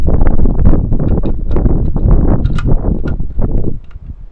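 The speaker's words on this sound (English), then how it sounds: "I really hate the wind right now." Outdoor wind buffets the microphone in a loud, continuous low rumble with gusty surges, close and overwhelming, easing slightly near the end.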